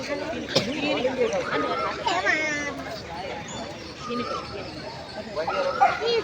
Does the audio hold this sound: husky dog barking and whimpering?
yes